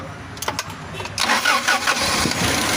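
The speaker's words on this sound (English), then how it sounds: "Start the engine again." A Toyota Hiace van with poor acceleration, jerking and rough idling cranks with a few uneven turns before its engine catches and runs on, loud and close.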